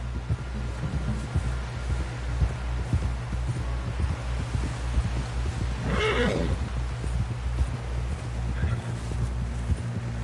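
A horse whinnies once, loud and close, over a steady low rumble and soft thudding hoofbeats, in a video game.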